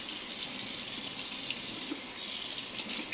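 Cold tap water runs steadily over cured black pepper bacon being rinsed in a sink, a close, even hiss of flowing water with slight splashing fluctuations and no voices.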